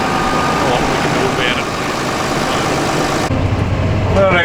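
A Fendt tractor engine hums low and steady from inside the cab while baling hay, loud and continuous with a faint rattle, and a voice talks over it.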